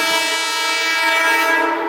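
A passing train sounds its horn in one loud, sustained, close-up blast with a rich chord of tones and no break, heard outdoors with no talking.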